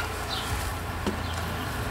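A package of honey bees buzzes at a Langstroth hive, a dense, steady close-up hum of many insects with a few louder individual passes, no talking.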